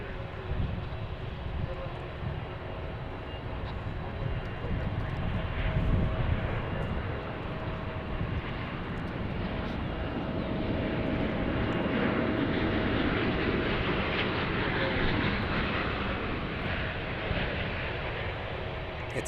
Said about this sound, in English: here's Qatar first up. A350 from Doha.